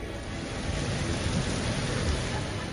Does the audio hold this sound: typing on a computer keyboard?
no